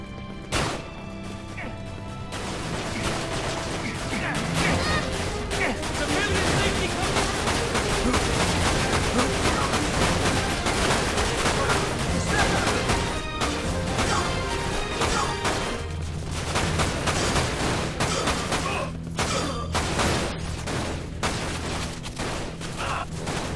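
Dense, sustained gunfire and impact bursts from a weapon in the PS2 video game Dirge of Cerberus: Final Fantasy VII, loud and continuous with layered crashes and shots, no talking over it.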